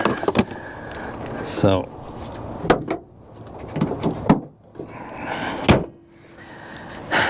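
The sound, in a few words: closing the hood of a 2012 Kia Rio hatchback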